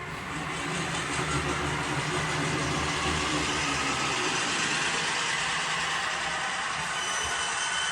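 An Athearn Blue Box model locomotive fitted with a DCC sound decoder runs forward, giving a steady, close diesel engine rumble and hum that stays even and continuous throughout.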